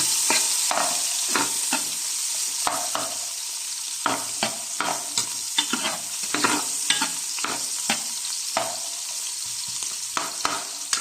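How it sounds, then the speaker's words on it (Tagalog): Garlic and onion sauté in a pan as a base for beef sinigang, with a steady sizzle under repeated clattering stirs and scrapes at an irregular rhythm, close up, with no talking. "lalagay ko na yung bawang uh, sibuyas. Ginisa ko na."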